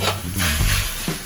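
Onions tossed into a hot pan for beef lo mein give a broadband sizzle with clattering stir bursts, steady and close, with no talk.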